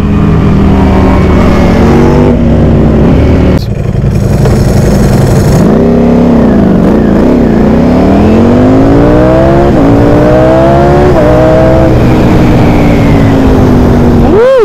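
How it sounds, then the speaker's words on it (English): Ducati Diavel motorcycle accelerating hard, heard from the rider's position as a loud continuous engine roar rising in pitch through several gear changes, with heavy wind buffeting. "that Diablo takes off though too. That thing is quick!"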